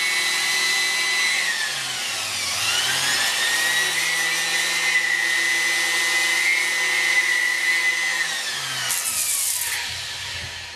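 A palm sander whines steadily as it sands the top of a skull mount, its tone rising and falling slightly as the angle and pressure shift, loud and close with no talking.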